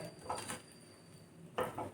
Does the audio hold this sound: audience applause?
no